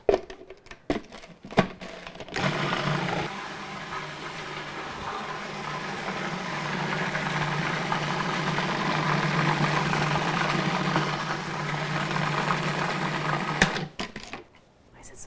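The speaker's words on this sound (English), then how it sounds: "making Frangipane in the food processor is that it's always gonna be really well combined" A food processor runs steadily for about eleven seconds as it blends frangipane of ground nuts and egg, with a constant whirring motor drone and a few clatters before and after.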